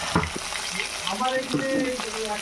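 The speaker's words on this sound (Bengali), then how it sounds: "একটা সাইড ভাজা হয়ে গেলে মাছগুলো তুলে নেব।" Fish frying in a pan of hot oil, pieces turned partway through cooking for a fish-head cabbage curry, with a steady close sizzle and a few sharper crackles and spatters across the moment.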